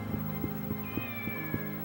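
A kitten meows in the video game Shenmue, one drawn-out, fairly close mew over a steady, rhythmically pulsing game background.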